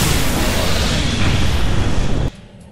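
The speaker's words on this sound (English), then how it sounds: "You just threw a photon grenade at people. Of course that blew up." A photon grenade blows up in the Star Trek Online video game, a loud, sustained blast of roaring noise that fills over two seconds and then cuts off abruptly into a quiet tail.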